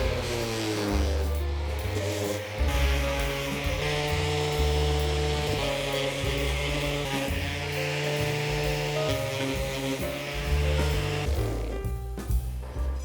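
Continuous abrasive sanding on a bronze Max-Prop sailboat propeller, a loud, steady grinding rasp with shifting tonal whine from the power sander running without pause.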